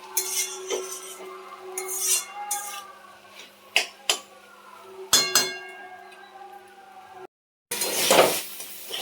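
Fried water spinach greens with turmeric and salt stirred in a pan, metal utensil clinks and scrapes in irregular strikes over a faint sizzle, a few sharp knocks, then a brief cut of silence.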